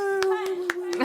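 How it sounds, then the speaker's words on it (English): A few sharp, separate hand claps ring out at an indie punk and feminist theatre night, spaced unevenly over a steady sustained tone that runs underneath the whole time. "Can we get a round of applause for Natalie, please?"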